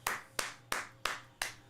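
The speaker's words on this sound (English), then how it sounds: "Y'all give yourselves a round of applause." Five sharp, evenly spaced hand claps sound close and fairly quiet, each a crisp snap with a short decay, as someone gives a round of applause.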